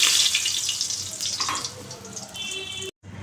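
Bay leaf and whole cumin seeds hit hot oil in a pan, giving a brief, close crackling sizzle that fades over a few seconds before cutting out.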